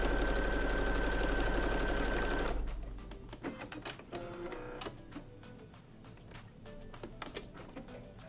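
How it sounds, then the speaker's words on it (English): A sewing machine stitches down the sides of a filter pocket on a fitted face mask, whirring loudly and continuously at first, then giving way to quieter, intermittent rapid bursts of stitching with pauses between. "we're just going to sew these sides down for the filter pocket"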